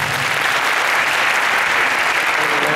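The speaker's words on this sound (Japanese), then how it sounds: "起きてる人拍手。" Sustained, loud applause from a concert audience at a Japanese university a cappella festival, a thick and even wash of many hands clapping without a break.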